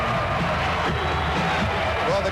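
Arena crowd at a 1996 slam dunk contest roaring after a dunk, a dense, sustained wash of cheering with a commentator's voice running over it.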